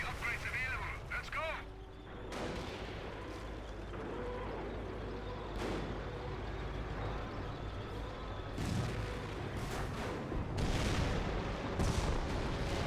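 A Hotchkiss artillery barrage in Company of Heroes lands as several booming impacts spread over a continuous rumble of battle, growing heavier toward the end, with a voice talking over much of it.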